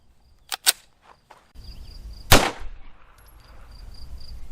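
A 9mm Speer Gold Dot 124 grain +P round fired on an outdoor range, one sharp loud report after a few fainter earlier cracks, with a steady hissing background afterward.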